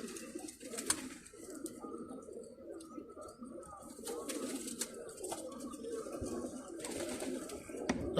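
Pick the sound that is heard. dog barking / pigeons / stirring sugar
pigeons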